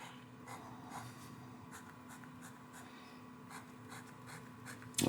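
Parker Duofold Special fountain pen with a stub nib scratching across paper in steady continuous strokes, close and faint, with slight skips in the line.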